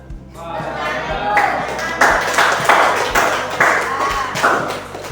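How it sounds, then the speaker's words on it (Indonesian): Classroom applause in an Islamic religious-education lesson, with scattered hand claps coming in bursts over a teacher's voice and background chatter. "Ya, tepuk tangan dulu ya."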